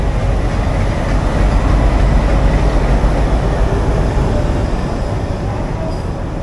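Hool Superfast Express with ICF coaches, hauled by a Howrah-shed WAP-4 electric locomotive, running with a loud, steady rumble and roar that holds unbroken throughout, with no voices.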